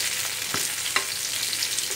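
Steady oily sizzle of eggplant frying in a pan, with a couple of soft scraping stirs; no voices.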